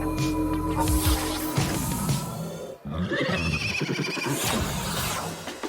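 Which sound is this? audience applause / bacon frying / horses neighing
horses neighing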